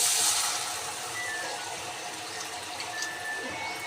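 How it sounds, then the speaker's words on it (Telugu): A glass of water is poured into a pan of noodles being cooked for kids, giving a steady close gushing splash that fades into a softer watery wash with faint background hum. "ఇప్పుడు ఒక గ్లాస్ వాటర్ వేస్తున్నాను."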